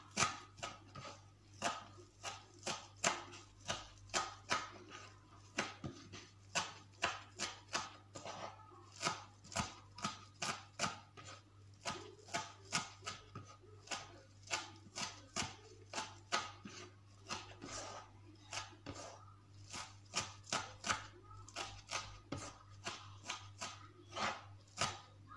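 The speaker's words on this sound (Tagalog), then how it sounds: "Hiwain natin ito ng pinong-pino." Knife chopping ingredients finely on a board for dawalli, an Arabic dish: steady, rapid, close-up blade taps repeating throughout over a constant low hum.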